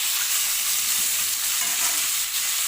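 Onion, capsicum, green chili and garlic fry in hot oil left from chicken Manchurian, producing a loud, dense, close-up sizzle with stirring, constant and unbroken, with no speech.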